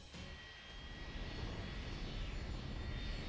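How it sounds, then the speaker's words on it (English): Four Triton engines roar at full throttle in Fate/Grand Order, a broad rumbling aircraft-like drone that swells slightly and holds steady, loud and close with no voices. "Set all 4 Triton engines to full throttle."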